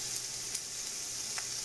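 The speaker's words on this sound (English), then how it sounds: "ooh, the sizzle. I love that sound." Chickpeas with seasoning sizzling in a pan, a steady soft frying hiss with faint crackles, quiet and close, no voices.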